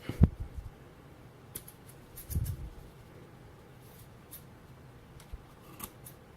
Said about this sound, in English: you just want to cut it enough that you'll be able to get the top of the RDA back on